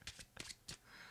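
A deck of playing cards is shuffled, giving three quick crisp riffling bursts in a row, close but fairly quiet, with no talk over them.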